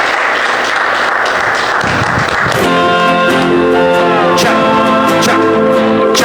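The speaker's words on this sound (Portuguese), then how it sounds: "aquela linda salva de palmas" A church congregation at a communion service breaks into dense, loud applause. After a couple of seconds the clapping gives way to sustained worship music that fills the rest of the moment.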